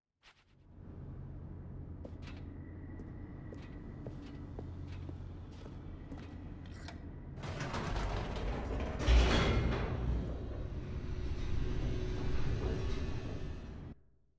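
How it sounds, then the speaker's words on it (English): An elevator descends in The Stanley Parable video game with a steady mechanical rumble and scattered creaks and clicks that swell louder and rougher partway through, with a brief heavy jolt, then cut off. "The elevator raced downward, plummeting towards an unknown fate"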